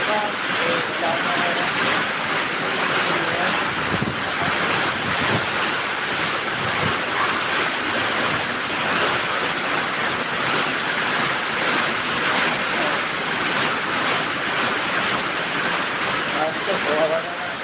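Very heavy rain pours down in Santa Maria, Pangasinan, with floodwater getting inside; a dense, steady roar of downpour holds at the same loud level throughout, like wind-driven surf.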